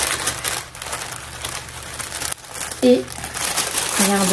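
Tissue paper crinkles and rustles as a Michael Kors purchase is unwrapped, a steady close-up crackling under a woman's speech.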